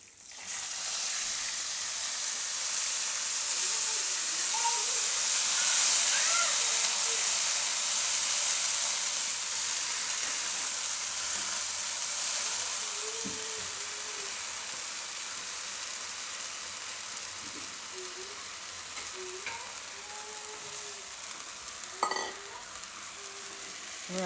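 Moong dal drops into hot oil tempered with curry leaves and asafoetida for a Gujarati turiya shaak, giving a steady, bright sizzle that runs for the whole stretch and slowly softens, with occasional stirring clinks.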